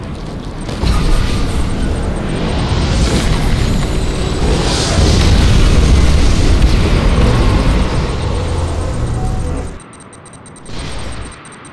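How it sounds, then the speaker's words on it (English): Ion cannon strike explosion in the Command & Conquer 3: Tiberium Wars game, set in downtown Sydney: a loud, sustained rumbling blast that roars for about nine seconds, then cuts off, followed by a brief smaller burst. "ion cannon activated"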